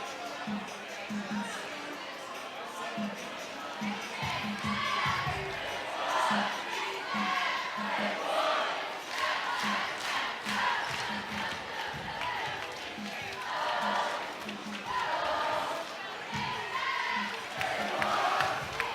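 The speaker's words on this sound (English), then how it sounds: "The Miege crowd trying to generate some energy for the last 4 minutes." A home crowd at a Bishop Miege boys basketball game against St. James Academy cheers and shouts in a big gym late in a close game, with rising roars, claps and continuous crowd noise throughout.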